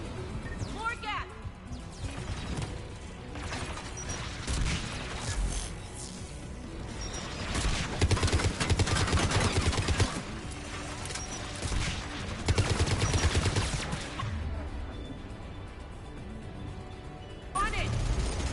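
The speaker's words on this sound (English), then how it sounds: "Shepard, you should be able to use the Geth's turret." Geth turret gunfire in Mass Effect 3, dense sustained bursts mixed with explosions and crashing combat noise, running loud throughout with voices talking over the battle.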